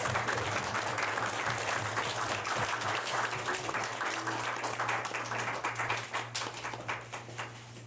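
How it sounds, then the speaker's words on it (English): A crowd claps steadily in continuous applause at a school board meeting, moderately distant, gradually thinning toward the end. "A round of applause for Cooper."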